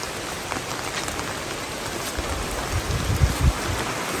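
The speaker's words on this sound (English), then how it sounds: "It's raining." Rain falls steadily at a cemetery in Madona, Latvia, a dense broadband patter with a few heavier thumps near the end, fairly close and continuous with no voices.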